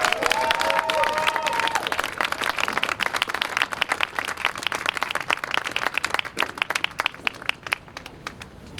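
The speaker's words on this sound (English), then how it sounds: "Let's give them another big round of applause." A crowd at a student rally claps loudly and steadily, with a brief cheer near the start, the applause thinning into scattered individual claps toward the end.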